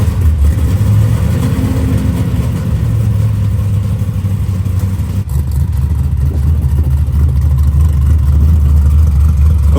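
Steady, loud engine drone from inside a car on a ride, a continuous low rumble that holds for nearly ten seconds with slight shifts in pitch, with no talking.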